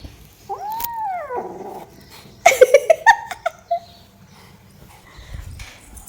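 A house dog reacts to a new guest with a rising whine, then a quick series of loud, close, sharp barks, trailing off into quieter low growling sounds.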